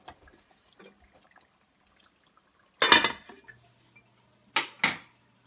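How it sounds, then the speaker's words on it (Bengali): Duck meat being roasted in a covered pot is stirred, giving a few faint scrapes and then three sharp metallic clanks of utensil and lid against the pot, separated by quiet. "এখন আমি মাংসটা একটু ভালো করে নেড়ে আবারও 10 মিনিটের জন্য ঢেকে দিব।"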